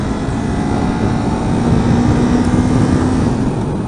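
A Kawasaki Ninja 400 motorcycle engine fitted with an Akrapovic slip-on exhaust drones loudly and steadily, a dense low rumble mixed with wind noise, as if heard while riding, with no talk.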